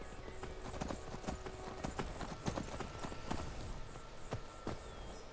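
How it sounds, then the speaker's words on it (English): Horse hooves clip-clop at a steady walking rhythm in the video game Skyrim Special Edition, fairly close, with no talk over them. "Apparently, Inigo's horse becomes quite magical as soon as one gets into his possession"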